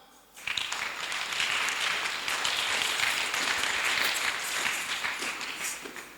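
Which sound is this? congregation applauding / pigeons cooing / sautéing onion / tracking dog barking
congregation applauding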